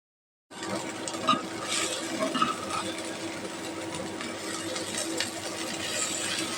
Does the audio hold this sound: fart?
no